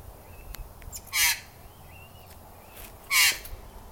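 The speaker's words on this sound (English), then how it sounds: "Alright, magpie." A magpie outdoors near a house roof gives two loud, harsh rasping calls spaced about two seconds apart, with faint softer chirps between them and no talking.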